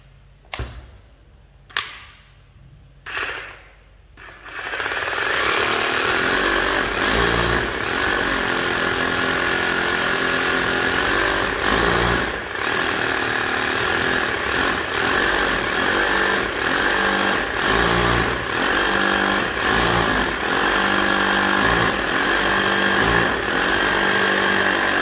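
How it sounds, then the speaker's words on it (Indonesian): An INGCO RGH9028-2 800W rotary hammer drills into a concrete block: a few sharp knocks first, then a loud, continuous hammering grind that runs unbroken for about twenty seconds, close up with no voices. "Kita coba untuk melakukan pengeboran."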